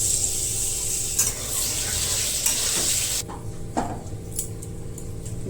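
Potatoes with turmeric and salt frying in hot oil, a steady sizzle with stirring clatter, the frying dropping quieter partway through as the pan settles.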